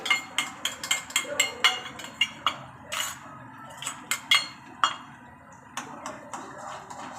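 A spoon scrapes and clinks against a metal cooking pot, stirring beaten eggs with salt into a scramble, in a steady series of sharp close taps with no talk.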